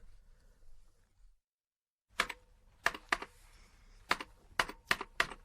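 Typing on a computer keyboard in a library setting: a pause, then scattered, irregular key clacks and taps, close and fairly crisp, with no voices.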